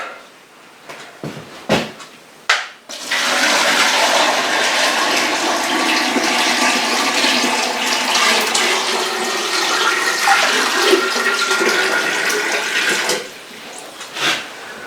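Water gushes into a Vacola preserving unit holding four jars of garden tomatoes, a loud, steady rushing pour lasting about ten seconds after a few clunks, then stopping with a final knock.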